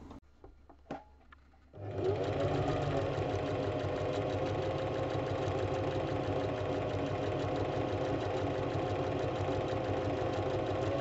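A sewing machine runs steadily for free-motion quilting with variegated thread through pinned fabric layers, a few light clicks first, then a continuous close mechanical hum and whir that holds to the end, with no voices.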